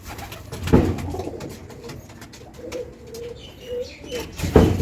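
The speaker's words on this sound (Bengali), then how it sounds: "কিছু পায়রা খাবার খাওয়া শেষ হয়ে গেছে আর কিছু পায়রা খাচ্ছে" Pigeons in a loft after feeding give soft, low, repeated cooing calls close by, with faint shuffling and light wing movement between the coos.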